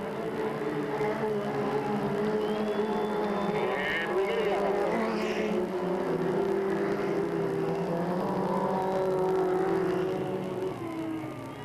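Sportsman-class race cars run side by side down the front straightaway at Delta Speedway, their engines a loud, sustained roar with shifting pitch, heard alone with no talk over it.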